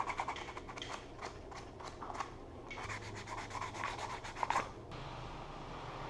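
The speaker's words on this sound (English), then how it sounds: "Some sandpaper to smooth it out." Sandpaper rubbed back and forth over a new motorcycle throttle tube on a Honda CL175, a close, quiet series of rhythmic scratchy strokes that pause briefly midway before continuing.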